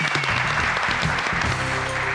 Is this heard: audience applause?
yes